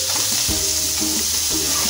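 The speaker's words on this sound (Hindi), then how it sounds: "पलट के दूसरी तरफ से फ्राई कर" Paneer pieces frying in a pan for Jodhpuri paneer masala, a steady close sizzle with soft stirring and turning sounds, no talking.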